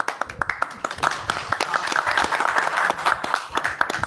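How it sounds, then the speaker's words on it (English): Applause from the attendees of a city council work session in Lebanon, a steady patter of many hands clapping at close range for about four seconds, with scattered louder individual claps. "And we clapped today, and we're probably going to do it again at your last meeting"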